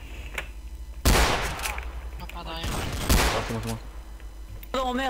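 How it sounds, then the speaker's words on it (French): Gunfire in a Garry's Mod Dark-RP game session, with loud bursts of shots cracking out around the one- and three-second marks over a steady low hum, while players talk excitedly throughout. "Attendez, il y a des tirs."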